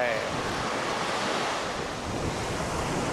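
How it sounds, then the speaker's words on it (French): Steady rushing surf with waves washing continuously, mixed with gusty wind buffeting the microphone; no voices. "Le bruit de la mer."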